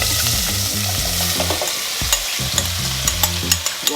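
Vegetables frying in very hot oil with wet jerk sauce, a loud steady sizzle with repeated spoon scrapes and stirring knocks against the pan, close by and with no voices.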